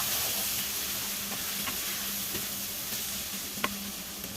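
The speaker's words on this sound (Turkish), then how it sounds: "Pirinçlerimi de ilave ettikten sonra arpalarıyla birlikte kavurma işlemine devam ediyorum." Rice and orzo sizzle as they are toasted in a pan, a continuous close hiss with occasional soft stirring clicks and scrapes, no speech.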